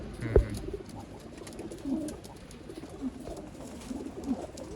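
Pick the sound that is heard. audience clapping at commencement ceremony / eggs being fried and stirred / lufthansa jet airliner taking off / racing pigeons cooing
racing pigeons cooing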